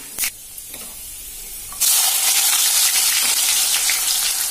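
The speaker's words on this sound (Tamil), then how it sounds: "தாளிக்கிறதுக்கு கருவடகம் தாளிச்சிடலாம்." A brief clatter, then a sudden loud sizzle as karuvadagam (spiced sun-dried seasoning balls) hits hot oil as tempering for a Tamil fish curry, crackling and hissing steadily close by.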